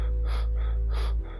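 Stifled, heavy breathing comes over a phone call as a horror radio effect: two or three close, airy breaths in slow succession over a deep steady hum that drops off near the end.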